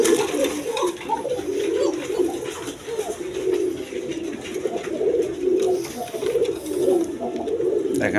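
A pair of high-flying Giribaz pigeons at a market stall coo in soft, repeated rolling phrases close by, the throaty calls steady and continuous over faint background bustle.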